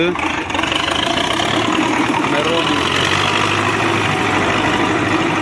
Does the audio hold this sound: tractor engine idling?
yes